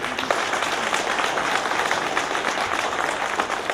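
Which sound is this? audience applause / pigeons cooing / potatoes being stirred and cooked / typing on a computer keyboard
audience applause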